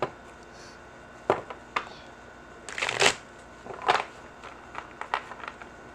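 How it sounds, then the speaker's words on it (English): Tarot cards being shuffled by hand, a run of crisp riffling bursts and soft slides at close range, with no talk. "sometimes I change up the way I shuffle just to make sure that it is random."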